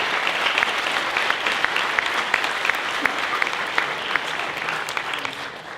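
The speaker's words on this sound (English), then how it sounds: "let's give them a round of applause for everything that they've" Wedding guests at a toast give a sustained round of applause, dense clapping from a sizable crowd filling the room evenly before tapering off slightly at the end.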